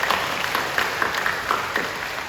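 Congregation applause during a church worship service, a moderate wash of clapping with a few distinct louder claps popping through, and no speech over it.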